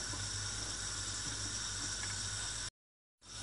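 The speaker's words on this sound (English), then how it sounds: "now the water is really boiling" Water coming to a rolling boil in a pressure cooker for chicken pulao with spices, a steady broadband bubbling hiss that runs continuously, drops out briefly near the end, then resumes.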